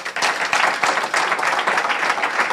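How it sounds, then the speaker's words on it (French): Lively applause rings through a church as the congregation claps in praise, a dense, continuous burst of many hands that holds steady throughout the clip. "Clap for Jesus Christ."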